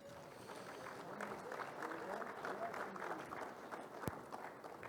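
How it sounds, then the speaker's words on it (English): An audience at a construction industry awards ceremony claps for award winners, soft, distant, uneven applause with a murmur of voices underneath and one sharp knock near the end. "Again, let's have a round of applause for the Platinum winners."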